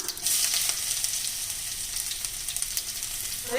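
Crushed garlic, curry leaves and a dried chili fry in hot oil for a drumstick rasam, giving a bright, continuous sizzle with crackling pops throughout, close and with no talk.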